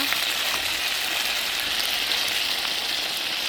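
Bone-in meat fries slowly in a covered pan over lowered gas, giving a steady, even sizzling hiss that stays constant and fairly loud throughout, with no talking.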